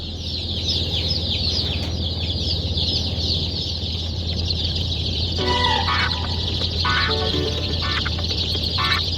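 Steady high-pitched cheeping from a crowd of chicks, continuous and fairly close, with a low hum underneath and a few louder chirps near the end.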